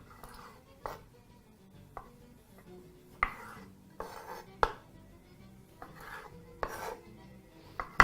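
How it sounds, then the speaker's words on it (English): Knife cutting through cherry tomatoes on a board, a series of crisp, separate chops at an uneven pace with faint board knocks, close and clear with no talking. "proceed to slice your cherry tomatoes in"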